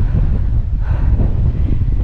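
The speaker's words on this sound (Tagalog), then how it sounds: "Sobrang lakas ng hangin mga part." Strong wind buffets the microphone on a high mountain in the Santo Domingo Highlands, Batangas City, Philippines, in a continuous low roar, loud and rumbling throughout with no pauses.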